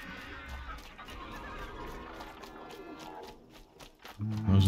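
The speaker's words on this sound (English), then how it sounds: "Those are the birds up there." Birds calling in the video game Horizon Zero Dawn, clucking, fowl-like cries repeating over ambient game sound, ending in a louder burst.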